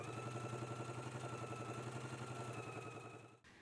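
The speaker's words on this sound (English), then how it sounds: "we can go ahead and stitch in a 5/8 of an inch seam allowance" A sewing machine stitches a 5/8 inch seam allowance, its motor humming in a steady close whir with rapid rhythmic needle pulses, then slowing and stopping abruptly near the end.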